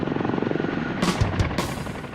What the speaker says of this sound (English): lands the Chinook as close to the casualties as possible